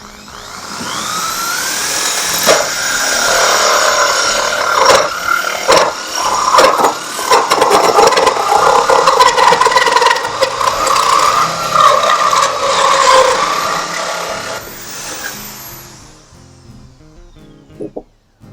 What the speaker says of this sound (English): So then I'm going to line that drill bit right up on that center there.